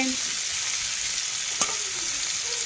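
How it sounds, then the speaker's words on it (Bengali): A small amount of onion frying in oil for a homestyle chicken tadka, a steady close hiss with one sharp clink of a utensil partway through. "অল্প একটু পেঁয়াজটাকেও ভালো করে আমি নেব ভেজে"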